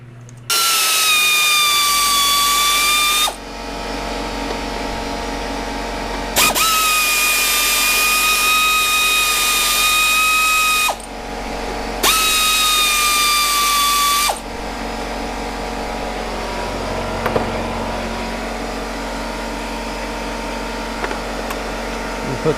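A pneumatic air tool whirs loudly in three separate bursts while removing 10mm bolts from the power steering pump of a BMW E46, with a steady mechanical hum and quieter workshop noise between the runs.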